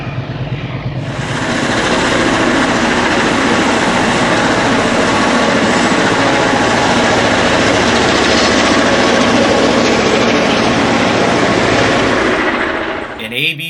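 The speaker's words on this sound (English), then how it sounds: "Daylight ALCO PAs lead westbound overland Train 27 across Long Ravine Trestle heading for Colfax" Daylight-painted ALCO PA diesel locomotives lead westbound Overland Train 27 across Long Ravine Trestle on Donner Pass toward Colfax, a loud, steady roar of engines and rolling cars filling nearly fourteen seconds before cutting off.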